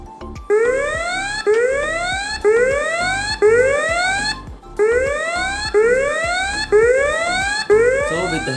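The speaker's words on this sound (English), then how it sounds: "raise the alarm like this" An electronic alarm from a phone app repeats in rising, whooping sweeps, about one per second, loud and insistent with a brief gap partway through.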